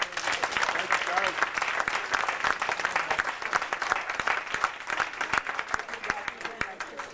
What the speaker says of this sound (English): big round of applause for all of our panelists for participating in this on behalf of the Historical Society